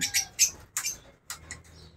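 Pet African birds chirping in a classic-style cage, a run of short, bright tweets in quick bursts with brief pauses, moderately close and fairly faint, no talking.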